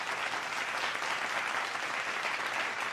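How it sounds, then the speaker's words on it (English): Sustained audience applause for a man celebrating fourteen years, dense and steady throughout at a constant level, with no speech over it. "Can I get an applause for my friend there, Charlie?"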